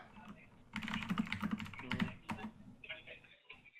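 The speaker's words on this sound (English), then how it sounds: "So I'll type it out for you." Keys clatter on a computer keyboard in a quick, close, fairly quiet burst of typing, with a few scattered taps trailing off at the end.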